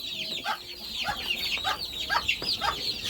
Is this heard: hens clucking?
yes